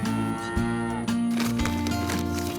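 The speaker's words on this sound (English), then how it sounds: "So Chelsea, how many cows do you have here?" Cows mooing on a small family farm: several long, deep moos follow one another closely, loud and near, with no talking.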